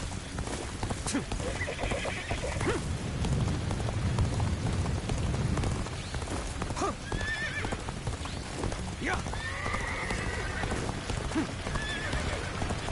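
Rhythmic hoofbeats of a galloping horse in Dynasty Warriors: Origins with an occasional whinny, over a steady rain-like wash of background noise and faint voices.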